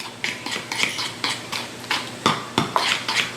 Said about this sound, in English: Now what we want to do is mix that around in the mayonnaise.